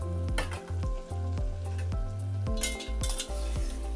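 Eggplant masala fries in a pan while a metal spoon stirs it, giving a continuous sizzle broken by repeated close, ringing scrapes and clinks against the pan at a quick, regular pace.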